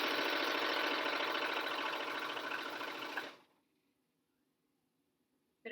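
A sewing machine runs steadily while stitching a fabric face mask, a loud continuous mechanical whir with a rapid needle rhythm that lasts about three seconds and then stops abruptly, leaving near silence.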